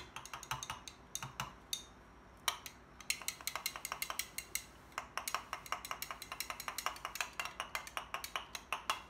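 Liquid soft plastic bait mixed in a cup makes a quick run of sharp, close clinks and ticks, irregular at first, then a fast steady tapping rhythm, quiet overall with no talking.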